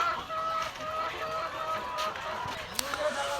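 Chickens in a poultry house on a farm cluck and chatter steadily at close range, with scattered sharper calls and a few knocks, and faint voices can be heard underneath.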